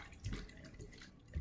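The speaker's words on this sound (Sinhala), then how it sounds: "තව වතුර ටිකක් දාන්න" Water poured into a rice cooker pot while making a Sri Lankan potato curry, a soft close splash and trickle in two brief bursts, quiet and without talk.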